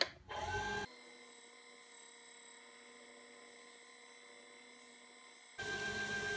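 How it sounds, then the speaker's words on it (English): Wood lathe spinning a small spalted walnut bowl, a steady high whine with faint tonal hum running alone at low level, bracketed by louder bursts of broadband noise at the start and end. "then I'll turn the lathe on"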